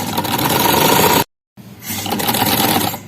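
A sewing machine runs steadily while stitching the side pocket of a kameez, stops abruptly for a brief silent pause, then whirs back up and continues stitching at close range.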